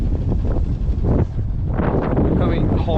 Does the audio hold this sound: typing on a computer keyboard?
no